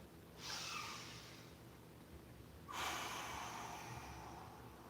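Slow controlled breathing during an at-home parkour session: a soft airy inhale through the nose followed, after a pause, by a longer, fuller exhale, close and quiet with no talk.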